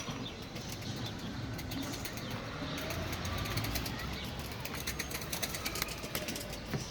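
Young pigeons flap their wings as they take off from a coop, a dense fluttering rustle over steady outdoor background noise, fairly faint and continuous, with distant traffic-like rumble beneath.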